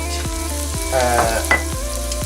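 Chili flakes and dried thyme and rosemary sizzle in a hot pan with onions and garlic, giving a steady close frying hiss broken by a few sharp stirring clicks and scrapes, with no voices.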